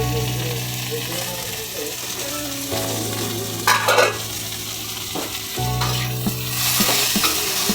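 Tomato added to potatoes frying in a pan for a mung dal dish, a loud continuous close sizzle with scraping stirs and clinks of a utensil against the pan.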